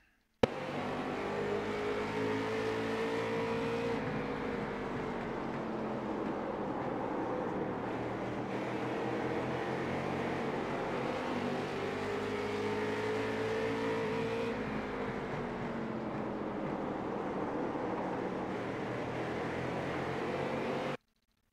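Late model race car engines roar continuously around Stafford in the iRacing simulation, a loud, sustained drone with rising and falling pitch as the engines rev through laps, steady and close with no voices over it.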